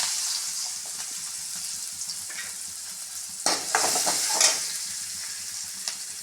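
Onion fries in a little oil with fennel powder while tempering a curry: a steady close sizzle with bursts of stirring and scraping in the middle, no voices.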